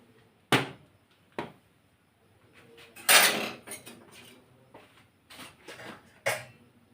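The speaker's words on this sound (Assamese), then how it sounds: "এইপিনে মই দিলোঁ কেৰাহী বহাই" A kadai set down on a kitchen stove while cooking a kohlrabi and rui fish curry, with a few sharp metallic clanks and knocks of cookware, close and intermittent, with no talk.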